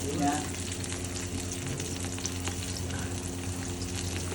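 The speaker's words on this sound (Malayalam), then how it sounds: "കൊച്ചുള്ളി ഒന്ന് നന്നായിട്ട് വഴണ്ടി വന്നിട്ടുണ്ട്" Shallots and chili sautéing in a pan for uppumavu, with a steady close sizzle and light stirring scrapes throughout.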